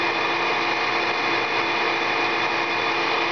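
A 200 amp alternator spins on a bench tester, giving a steady, continuous whine and hum with no change in pitch or level over a few seconds, heard alone and fairly close.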